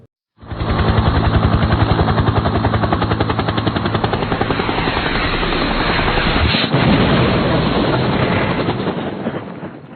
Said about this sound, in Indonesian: mendengar suara pesawat